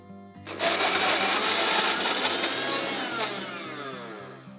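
A kitchen mixer grinder whirs loudly and steadily, grinding dates, nuts and raisins with ghee into a coarse paste for sugar-free dry fruit ladoo, running continuously with no talk.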